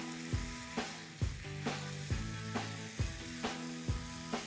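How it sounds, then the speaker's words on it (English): Ground beef browns with spices in a pan, a steady sizzle broken by about ten sharp scraping knocks as a spoon breaks up the meat, loud and close with no talking. "I'll break this up with my spoon and brown it all over."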